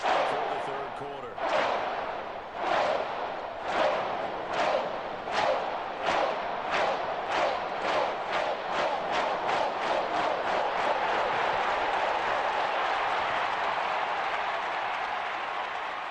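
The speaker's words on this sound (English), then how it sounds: "Minnesota's my team, so that skull clap actually got me pumped up." A stadium crowd at a Falcons vs Vikings NFL game performs the Minnesota Vikings skull clap: loud, unison booming claps start slow, then quicken into a rapid, steady rhythm over continuous crowd roar.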